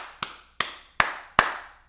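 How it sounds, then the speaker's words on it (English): One person clapping alone, four sharp, evenly spaced claps close by with nothing else in the background. "give myself a round of applause"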